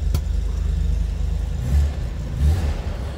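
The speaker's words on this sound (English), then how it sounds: "Let's go ahead and fire it up. Nicer than what you think." A 1964 Chevrolet Corvair Monza 900 coupe engine starting and then idling, a sharp catch at the start settling into a steady low rumble with a couple of brief swells in revs, close and loud.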